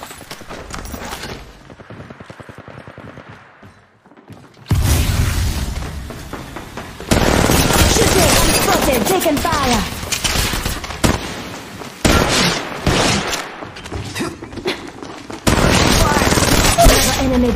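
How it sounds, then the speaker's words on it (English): Gunfire from Apex Legends Mobile, with dense loud volleys of shots and booms that come in bursts and cut off sharply between quieter stretches. "Shooting."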